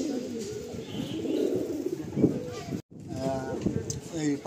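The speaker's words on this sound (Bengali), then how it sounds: "সমস্ত পায়রা অ্যাক্টিভ রয়েছে, এদিকে নর আর এদিকে মাদি।" Madrasi pigeons coo in repeated soft, throaty rolls inside a newly built loft in Kolkata, with someone talking over the birds much of the time.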